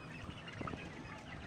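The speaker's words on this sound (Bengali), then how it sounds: "এখন আমি মুরগিগুলোকে দেখতেছি যে কী অবস্থা" Broiler chickens on a poultry farm clucking faintly against a steady background hum, with a few brief calls rising out of the low murmur of the flock.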